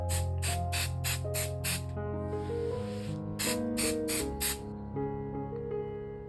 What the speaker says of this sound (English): I always want to do my spraying onto my batting, not onto my fabric.